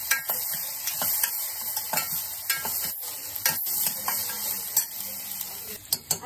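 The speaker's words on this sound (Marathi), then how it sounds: "सर्व पहिले कांद्याची फोडणी करूया, तेलामध्ये कांदा ॲड करूया." Onion fries in hot oil for a tempering with a steady close sizzle, broken by repeated scraping stirs and small clinks of the spoon against the pan.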